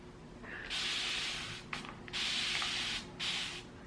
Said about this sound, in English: I have my 360 water spray can thing that I got off of Amazon.